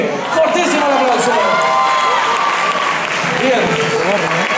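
Loud crowd applause with cheers and whoops fills a hall at a 2012 funk dance competition, a continuous roar of clapping and shouting that holds steady throughout.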